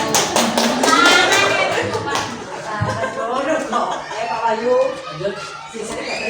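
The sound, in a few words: clapping hands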